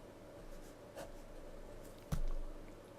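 A pen writing out a complex power equation: faint, soft scratching strokes with a couple of sharper taps, quiet and close, with no voice.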